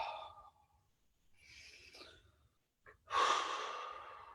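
Audible breaths drawn in and slowly let out while a tense neck is squeezed and massaged, soft airy exhales with pauses, ending in one longer, louder sigh-like breath out, close and alone.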